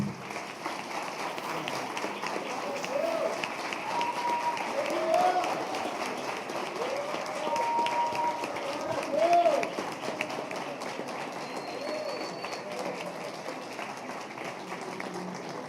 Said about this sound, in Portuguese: Vamos aplaudir Cristo?